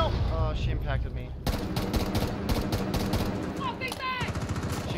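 Rapid bursts of gunfire in the tactical shooter Rainbow Six Siege, dense and loud through most of the stretch, with players talking over the shots.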